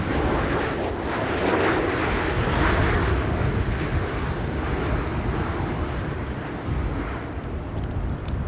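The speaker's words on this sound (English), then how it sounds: "Croatia Airlines Flight 450 arriving from Zagreb over here." Croatia Airlines airliner arriving from Zagreb at Amsterdam Schiphol in stormy weather, a steady loud jet engine roar filling the whole stretch with broadband rumble and a faint high whine, no voices.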